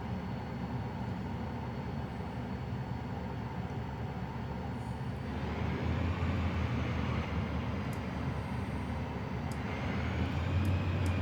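The Cirrus Vision Jet G2 engine in Microsoft Flight Simulator hums steadily as a low, continuous drone while the jet sits near the runway. The drone swells noticeably partway through and holds at the louder level.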